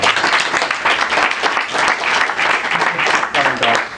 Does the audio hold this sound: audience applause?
yes